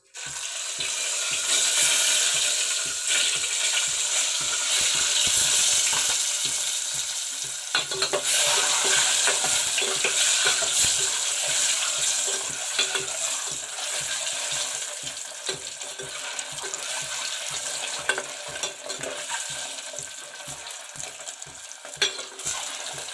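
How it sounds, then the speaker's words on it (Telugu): Steady loud sizzling of eggs frying in hot oil, a continuous crackling hiss with rhythmic scraping from a utensil throughout. "నూనె మరిగింది, గుడ్లు వేసుకుందాం."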